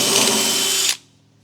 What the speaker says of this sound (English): I have to drill these holes out larger.